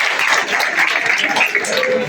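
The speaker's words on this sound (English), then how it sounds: "Okay, you wonderful students, clap for yourself." Students applauding together in a classroom or hall, a steady dense wash of clapping with some voices mixed in.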